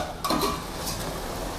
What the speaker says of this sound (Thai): เปิดฝาครับ